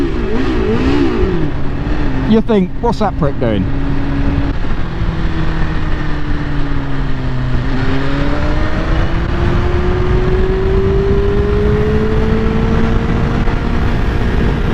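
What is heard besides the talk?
car engine rev bomb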